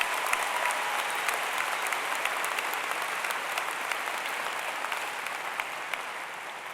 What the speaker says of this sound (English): You deserve a round of applause for that.